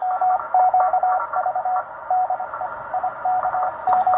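A strong Italian amateur radio station comes in on the 20m band through a receiver, heard as a steady pattern of short and long keyed tone bursts over a faint hiss.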